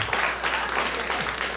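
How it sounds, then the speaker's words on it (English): Brief burst of audience applause at a comedy club, a dense continuous clatter of clapping hands, loud and close, with no pauses. "give them a round of applause"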